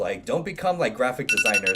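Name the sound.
phone alarm ringing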